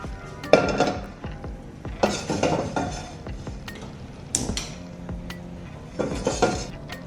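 Toasted chilies being scooped out of a wok, with repeated metallic scraping and clinking of a utensil against the pan coming in several bursts, close and fairly loud, with no talking.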